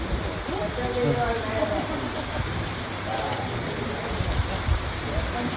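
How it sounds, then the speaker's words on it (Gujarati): Steady rain falls in a continuous broadband hiss, near and even throughout, with faint voices in the background. "આ બાજુમાં વરસાદ ચાલુ છે"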